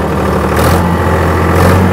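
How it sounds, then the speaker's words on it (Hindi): Tractor engine running steadily at 1840 rpm with the PTO engaged, a loud, continuous low rumble with a slight rise in pitch partway through, no voices. "तो पहले मैं क्लच दबा के ट्रैक्टर चालू कर रहा हूँ"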